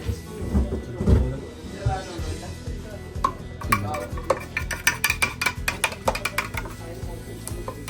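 Ingredients for homemade lemonade are mixed with a spoon, giving a run of quick close clinks and taps against the container, while a person talks over the start.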